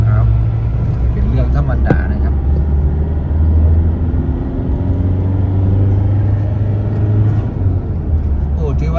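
A car pulls away from a green light on Thai highway 2116. A loud, low engine and road rumble swells as it accelerates, and someone speaks throughout.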